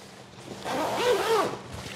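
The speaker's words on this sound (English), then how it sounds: "Looks like a pretty heavy duty zipper." A heavy-duty zipper on the detachable hood of an RC helicopter carry bag is pulled in one quick, close zip lasting under a second.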